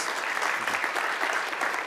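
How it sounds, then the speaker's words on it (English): Applause from a graduate three-minute thesis competition audience, a dense, even wash of many hands clapping together for the whole short stretch. "Give him another round of applause."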